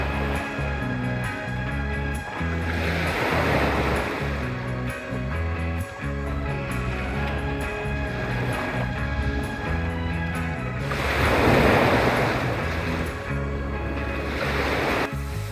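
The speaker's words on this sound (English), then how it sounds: "The air had gotten colder, the sun was no longer shining, and the wind was picking up" Waves and surf wash in on a cold, windy shore, a steady broad roar that swells louder twice, with a layered low drone running underneath throughout.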